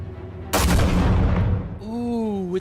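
Gunfire in Batman: The Telltale Series, with a loud sudden blast whose noisy roar decays over about a second, then a rising engine-like tonal whine, close and loud.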